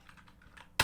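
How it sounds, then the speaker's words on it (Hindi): The Enter key on a computer keyboard is pressed once, a single sharp click at the very end after a stretch of quiet room tone. "ठीक है, मारो एंटर।"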